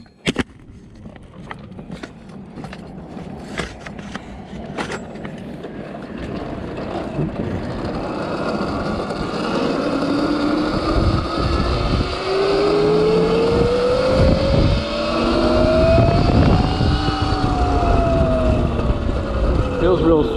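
Electric-converted 2014 Yamaha YZ250F dirt bike with a QS 138 motor and Votol controller riding; a rising electric motor whine that climbs in pitch and then falls, loud and close, over wind and terrain rumble, after some early knocks and handling noises.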